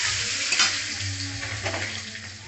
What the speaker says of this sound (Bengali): তো ডিমগুলো লাল লাল করে ভাজা হয়ে গেছে